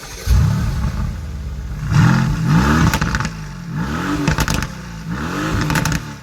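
A Mercedes-AMG GT S engine in race mode revs loudly and close, with repeated rising and falling surges and a clattering exhaust burble between the blips.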